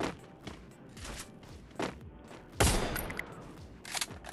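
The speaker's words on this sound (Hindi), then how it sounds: "क्या फायर करता है यार ये गन" The Woodpecker sniper rifle fires in the Free Fire video game, with several gunshots including one loud, booming report and other softer shots and thuds.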